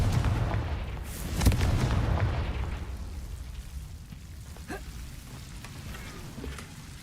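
A Confringo fire spell cast in Hogwarts Legacy bursts with a loud blast, followed by a rumbling, crackling tail that slowly fades, with a few fainter pops afterward.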